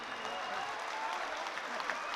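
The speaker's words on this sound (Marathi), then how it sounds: "तरी कृपया टाळ्या जोरात वाजल्या पाहिजे." A crowd gives a dense, even round of applause at a Geet Ramayan stage performance, heard faintly as if from a distance and holding without a break.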